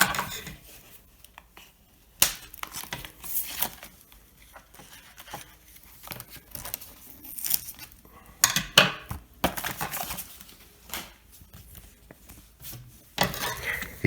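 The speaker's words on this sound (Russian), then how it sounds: "Сейчас я откреплю ее от всех скотчей." Paper banknote, a 1999 Armenian 1000 dram note, being peeled off adhesive tape: a string of irregular crackling, rustling and sharp tearing bursts, close and uneven, with short quiet gaps between handling noises.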